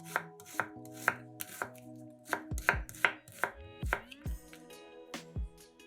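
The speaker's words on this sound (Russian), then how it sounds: "2 луковицы среднего размера нарезаем полукольцами." A knife chops sharply and repeatedly through medium onions, slicing them into half-rings on a cutting board, about a dozen crisp, uneven strokes close by, with no talking.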